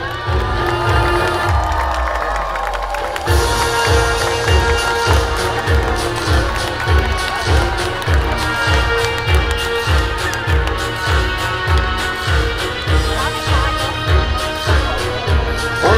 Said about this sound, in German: Applaus und Jubel für eure Ritter!